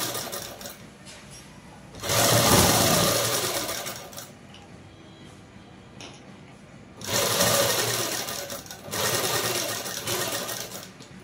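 A sewing machine stitches a seam on a lehenga-style long frock, running in two bursts of steady, close whirring with quieter pauses between them.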